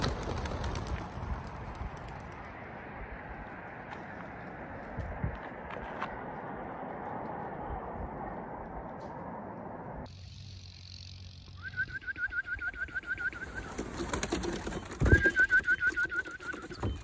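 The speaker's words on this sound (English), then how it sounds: "Just let the birds out." Racing pigeons being released ahead of a 300-mile Sunday race, heard outdoors as steady low bird murmuring and cooing, then a burst of fluttering and sharper calls near the end, with no one speaking.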